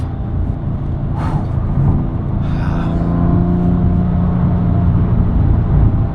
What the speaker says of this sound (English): you can even feel the front end of the car just lifting up as this thing digs in. and takes off.